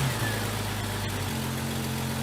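A Jeep Cherokee XJ engine, just fitted with an all-aluminum radiator, runs at a steady low idle, a close, loud, even hum that settles into a lower tone partway through.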